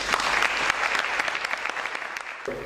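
An audience claps to welcome Agustín Delgado, Iberdrola's director of sustainability and innovation, at an event about a forest restoration project in Jaraíz de la Vera. The applause is dense, steady and fairly close, with a change in tone near the end.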